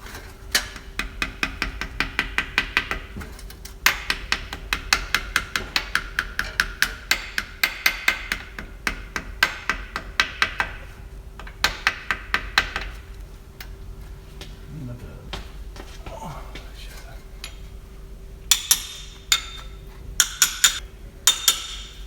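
Repeated sharp metallic strikes from a whacker tapping a front main seal into a Mazda MX5 engine, coming in quick bursts with short pauses, close and fairly loud over a low background hum.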